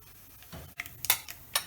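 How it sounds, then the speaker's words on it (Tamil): Mustard seeds pop and splutter in hot oil: a few sharp, scattered crackles against a quiet background. "ஒரு பிஞ்ச் ஆஃப் கடுகு போட்டுக்கோங்க. நல்லா வெடிக்கட்டும்."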